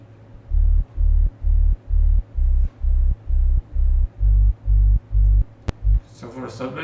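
Deep sub-bass synth sine tones for a progressive house track pulse in an even rhythm, eleven low throbbing notes, loud and smooth, ending with a brief noisy burst.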